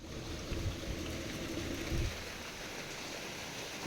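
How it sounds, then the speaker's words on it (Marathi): Rain falls in a steady, dense hiss, and a few heavier rumbling patches sit under it in the first couple of seconds. "खूप दिवसानंतर पावसानं हजेरी लावली"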